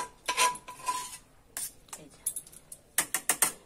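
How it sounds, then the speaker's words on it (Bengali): Lid lifted off a pot of hot, freshly cooked food in a home kitchen, giving a few metallic clanks and scrapes of cookware, with short clattering bursts spread across the clip. "এক্ষুনি ঢাকাটা খুললাম,"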